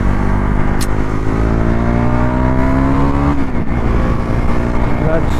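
A motorbike engine runs steadily on a foggy road near Sabbanahalli lake before a ride, a loud continuous hum whose pitch rises gradually and then drops, close up with no voices.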